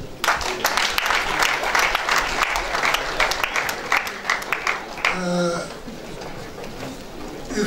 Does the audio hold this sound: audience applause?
yes